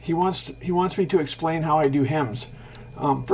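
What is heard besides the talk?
No everyday noise stands out behind the speech.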